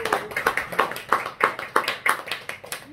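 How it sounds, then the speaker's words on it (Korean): A small audience at a health lecture clapping in a steady, rhythmic beat, roughly three claps per second, moderately close and without speech over it. "다시 한번 박수."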